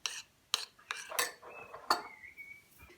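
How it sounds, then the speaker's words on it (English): A spoon works an ice cream Christmas pudding mixture into a smooth paste, giving a run of sharp scraping clinks against a bowl, close and fairly quiet, with no talk. "Just keep working at it until the lumps have all disappeared and you end up with a smooth paste."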